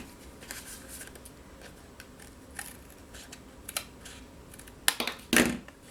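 Paper being trimmed for a handmade card, with soft scattered snips and rustles building to a few louder cuts near the end, close and with no talking.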